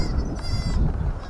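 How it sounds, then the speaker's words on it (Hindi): A small young goat gives a quavering bleat outdoors, a short nasal cry rising above rumbling, wind-buffeted background noise, with no talking over it. "बकरी"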